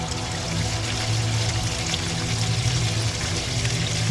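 Water runs steadily through a collapsed concrete slab in a cramped space, a continuous broadband rushing that stays even and fairly close with no talking over it.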